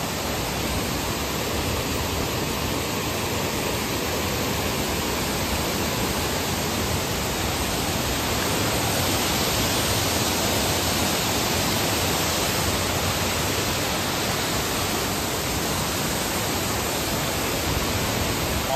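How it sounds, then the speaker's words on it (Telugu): Kothapalli waterfall roaring as a loud, dense, unbroken rush of falling water, steady throughout with no voices. "Hello Kothapalli water falls."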